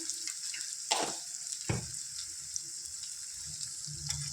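Aloo tomato curry of potato and tomato frying in a pan, with a steady soft sizzle, a couple of brief stirring scrapes and faint clinks, close and alone without talk.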